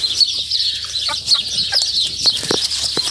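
Big chickens cluck in short, close bursts inside a coop, with soft scattered calls and light rustling and wing movement over a steady background hiss.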